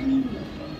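A pigeon gives a single short, low coo close by, followed by faint background noise.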